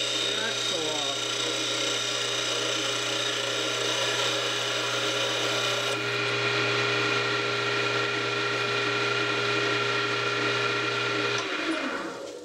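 A small power tool whines steadily at close range as it cuts the center axle off a model car wheel, running for about eleven seconds before winding down, with a voice talking over it.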